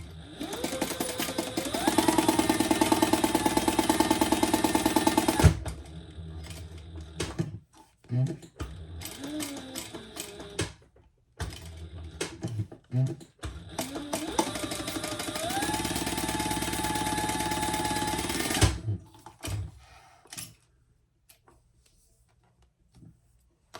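A sewing machine top stitches fabric for a shoulder bag in two long, steady whirring runs, separated by short bursts of stitching and clicks, then quiet near the end.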